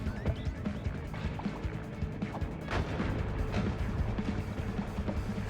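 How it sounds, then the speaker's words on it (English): Eggs exploding in a video game run, heard as a dense burst of blasts and booming crashes layered over a busy, loud game soundtrack for several seconds. "The explosion is very deadly"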